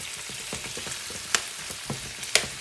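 Food sautés in a pan with a dense, steady crackling sizzle, punctuated by a few sharp utensil clicks and stirring scrapes close by.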